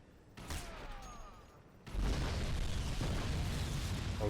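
A gas station explodes in the shooter game Crysis Remastered, first some whistling and crackling, then a sudden deep boom at about two seconds followed by a sustained loud, rumbling roar of fire and debris.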